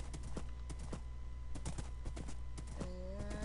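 Horse hooves clip-clopping in a Minecraft survival game, a run of quick, sharp hoof clicks at close range over a steady background hum, with a short tonal game sound near the end.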